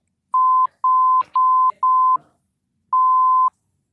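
Censorship bleep from a cricket podcast, a steady electronic tone repeated four times in quick succession and then once more after a short pause, with brief bursts of speech in the gaps between the tones.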